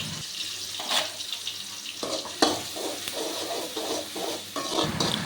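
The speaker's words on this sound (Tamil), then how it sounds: "இதை நல்லா ஃப்ரை பண்ணிக்கலாம்." Ground onion, crushed garlic and spices frying in oil in a wok at a village cookstove, a steady loud hiss and sizzle broken by repeated stirring scrapes.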